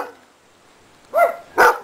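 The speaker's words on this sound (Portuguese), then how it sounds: "Pode ver que o cachorro não gosta de ficar preso." An abandoned dog kept shut in an enclosure gives two sharp, close barks in quick succession after a quiet pause, with no talk.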